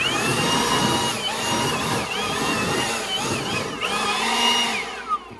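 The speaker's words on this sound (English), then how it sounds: "Tell you how handy this leaf blower is for cleaning off work sites." A loud, continuous high-pitched whine of a leaf blower running close by while cleaning off a deck-building work site, with slight shifts in pitch as it moves.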